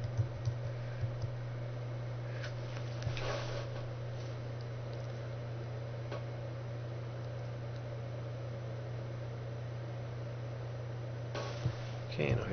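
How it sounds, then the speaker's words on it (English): On a computer keyboard, the command reboot is typed at a CentOS 6 machine. A few sparse, faint key clicks sit over a steady low electrical hum. "So I'm going to type reboot."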